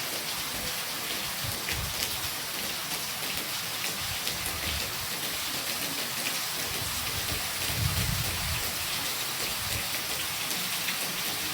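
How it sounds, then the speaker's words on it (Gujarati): Heavy rain pours steadily and loudly, a dense hiss without pause, with a low rumble swelling briefly partway through. "વરસાદ જો વધી ગયો છે બહુ"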